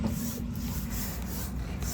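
Steady rasping scrub of a brush against a Nordhavn boat hull crusted with a colony of mussels, continuous and close with faint rhythmic strokes throughout.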